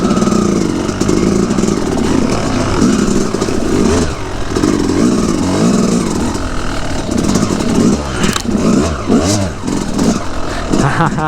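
A dirt bike revving hard while being ridden, its loud, close engine buzzing steadily with repeated throttle surges and rough mechanical clatter throughout.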